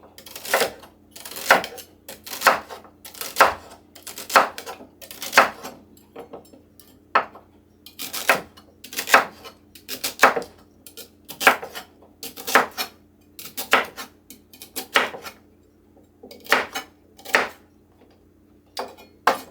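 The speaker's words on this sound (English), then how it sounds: "Now I got me 4 stalks of celery. I'm gonna chop that up." Celery stalks are chopped with a knife on a board, a steady series of crisp, sharp knocks at a brisk regular pace, close up and clear, with no talking.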